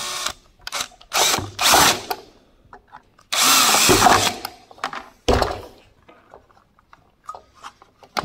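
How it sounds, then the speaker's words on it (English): A power drill whirs in several short bursts up close, the longest lasting about two seconds, with brief pauses and clicks between runs. "to fix these holes, I'm just gonna drill the middle a little bit."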